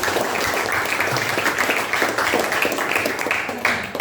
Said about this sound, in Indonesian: Beri aplaus dulu pada Marianti.